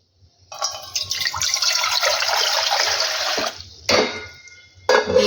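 Water is poured into a metal momo steamer box in a home kitchen, a continuous splashing hiss lasting about three seconds, followed by two short bursts of clattering and trickling.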